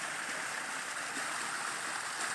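A mountain stream flows through a village in Himachal Pradesh, a steady close rushing hiss of water with no pauses.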